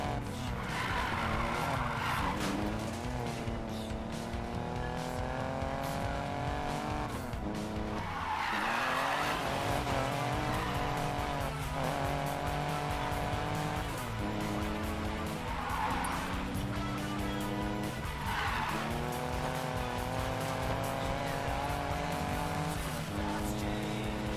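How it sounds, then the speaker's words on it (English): In the Need for Speed Payback video game, a car drifts around a work van: a loud, sustained engine roar with long tire squeals that rise and fall across repeated slides, and no talking. "Just drift around the work van."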